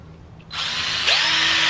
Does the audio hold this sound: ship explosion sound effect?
no